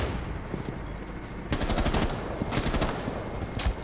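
Bursts of close, loud automatic gunfire in Rainbow Six Siege, sharp rapid shots in several rattling clusters over game ambience.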